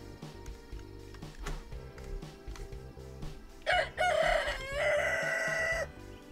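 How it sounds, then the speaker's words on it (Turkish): A rooster crows loudly in the video game Honey, I Joined a Cult, a long drawn-out call standing clear above quieter game background sounds. "Bu horozun sesini bir kere daha duyarsam ben de aynı bu horoz gibi çığlık atacağım."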